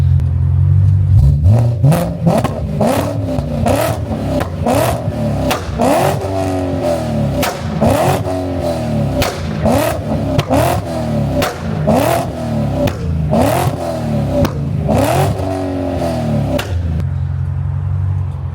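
A high-mileage E90 BMW M3 engine revs hard over and over in quick repeated bursts, loud and close, with a continuous roaring rhythm throughout.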